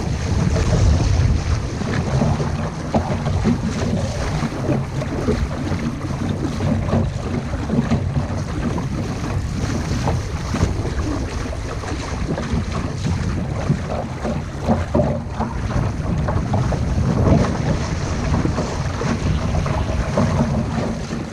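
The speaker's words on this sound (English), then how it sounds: "Now we're going across the wind. So we just let the sail out to catch it." A sailboat reaches across the wind on a fine day with its sail let out, giving a continuous loud rush of wind buffeting the microphone and water washing along the hull, steady and unbroken throughout.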